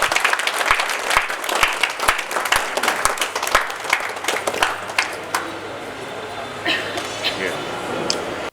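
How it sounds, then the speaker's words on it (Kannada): Loud, sustained applause from an audience at a charity dialysis centre's third anniversary event, dense clapping through the first half and thinning toward the end, with a voice talking underneath. "ಮತ್ತೊಂದ್ಸಲ ಜೋರಾಗಿ ಚಪ್ಪಾಳೆ ತಮ್ಮೆಲ್ಲರ ಕಡೆಯಿಂದ"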